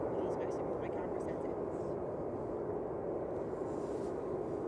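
SunExpress Boeing 737 Max 8 at Manchester Airport gives off a steady, loud broadband jet roar with no breaks, and a faint voice may sit beneath it.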